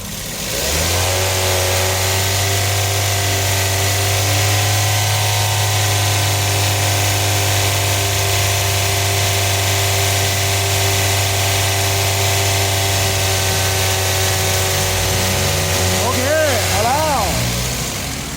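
Toyota Vios engine held at a steady high rev, loud and close with a constant droning hum, then quick blips of the throttle near the end.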